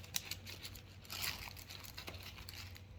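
Sheets of 3M 6-inch sandpaper crinkle and rustle as they are handled, with soft, close, irregular crackles and brief crunches at low volume.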